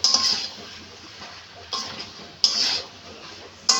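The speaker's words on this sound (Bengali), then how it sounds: "পনেরো মিনিট মতো কষে নেব সব কিছু বেশ ভালো করে কষা হয়ে যাবে" Vegetables and a fish head are stirred in a pan with a spatula, giving three or four distinct metallic scrapes and clanks against the cookware, each fading into quieter frying between strokes; no speech.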